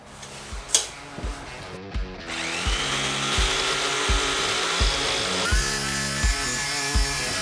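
A power tool cutting plywood panels for an interior build, droning steadily with a rising whir and a rhythmic knocking beat running underneath, fairly loud and close.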